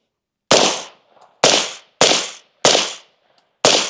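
Five sharp, loud rifle shots through a flow-through suppressor, fired outdoors at a range with steel targets, each a hard crack with a short decaying tail, spaced roughly a second apart with no talking.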